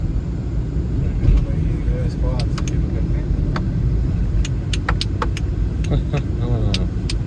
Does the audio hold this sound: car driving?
yes